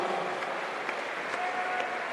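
Crowd applause for a national champion 800 freestyle swimmer at the New Zealand Swimming Championships, steady clapping from spectators in an echoing pool venue, with faint voices mixed in under it.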